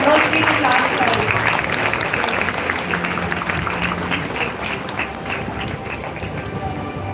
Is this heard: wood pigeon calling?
no